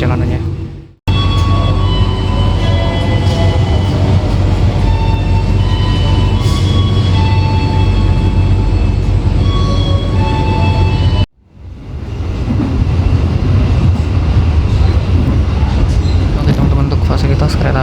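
Inside the KA Majapahit passenger train running from Jakarta to Malang, a steady loud rumble of wheels on rails with rattling carriage noise, briefly cut out twice.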